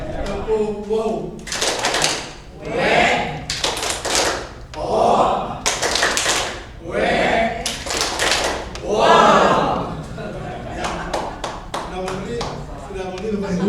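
A group of teachers performs the Indonesian "tepuk wow" clapping chant, sharp rhythmic claps in quick patterned bursts mixed with shouted responses and talk, repeated several times.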